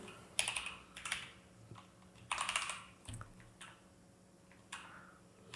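Keystrokes on a computer keyboard as code for a MongoDB connection string is typed, heard as quiet, uneven clusters of clicky taps separated by short pauses, with no talking.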